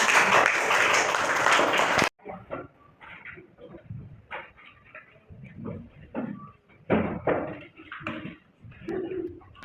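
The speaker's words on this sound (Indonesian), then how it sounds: "Tepuk tangan semuanya." A class of students in a teacher-training lesson claps together in a loud, dense burst lasting about two seconds, then it cuts off abruptly, leaving quieter scattered room noises and shuffling.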